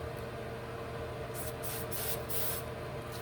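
Adhesive spray hissing onto a lace wig in several short bursts, fairly close, with steady background hum and no talk.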